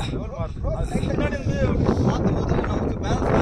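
Strong gusting wind on a mountain trek up Agasthyakoodam, loud and steady, roaring and buffeting the microphone throughout, with people talking underneath.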